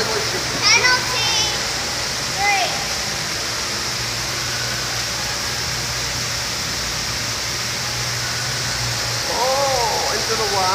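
Water trickles and splashes steadily through a water feature on an outdoor minigolf course, a continuous broadband wash under the voices of children and adults talking throughout.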